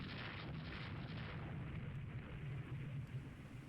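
Shell hits striking a battlecruiser in the naval game Rule the Waves 3: a continuous, loud, rumbling roar of explosions and booms lasting several seconds, with no talk.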